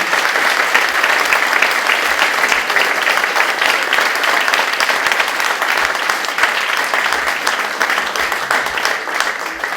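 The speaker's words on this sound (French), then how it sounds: "Je voudrais, moi, qu'on les applaudisse encore une fois, je voudrais les applaudir moi-même." Loud, sustained applause from an audience at a children's dance gala with a sixties theme in Jandrenouille, a dense, even roar of many hands clapping that carries on for about ten seconds.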